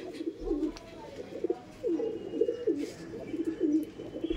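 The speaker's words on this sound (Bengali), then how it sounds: "দেখুন কালো শাকদুম কিন্তু ডাক দিচ্ছে।" A black Shakdum pigeon at a pigeon market coos in several soft, low, rolling phrases, fairly near and faint over quiet background noise.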